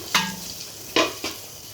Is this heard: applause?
no